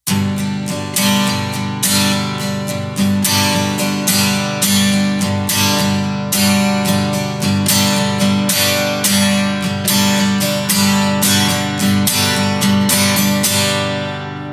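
Steady rhythmic guitar strumming in a constant down-up pattern, with certain strokes hit harder to create accents, played loud and close without any voices.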